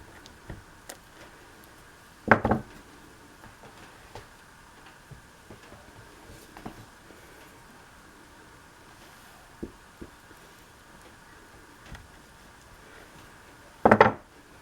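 A knife cuts through homemade fig bars, giving a few sparse soft taps and two louder thuds against a board, with quiet handling between them.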